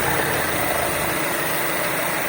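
A gasoline car engine idles steadily up close, a loud, even, continuous rumble with a constant hum and no change in pace throughout.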